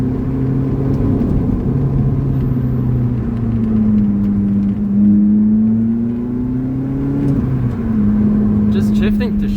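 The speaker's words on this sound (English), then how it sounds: "The car is so loud." Lotus Elise sports car driven on a mountain road, engine droning loud and steady from inside the cabin, pitch rising and falling with throttle and gear shifts, with a voice talking over it.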